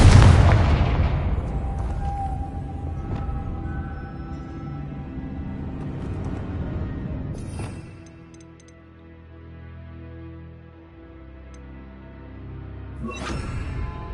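A Confringo fire spell in Hogwarts Legacy bursts with a loud booming blast that rumbles and fades over several seconds, followed by a lower rumble and a second sharp crackling impact near the end.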